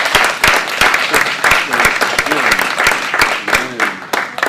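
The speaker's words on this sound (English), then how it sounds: "a huge round of applause for them and their service to the" An audience at an academic senate meeting applauds, a dense patter of many hands clapping in a room, while a voice speaks over it.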